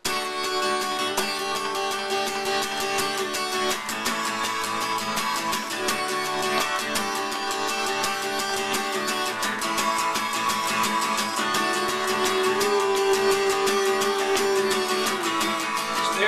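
Dense, steady guitar strumming in even sixteenth notes, sustained chords ringing continuously at a moderate volume with no voices.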